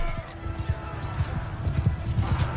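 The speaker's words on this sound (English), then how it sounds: "Here comes the horses." Horses gallop in a Mount and Blade II Bannerlord battle, a rapid, irregular clatter of hoofbeats with muffled background battle noise running throughout.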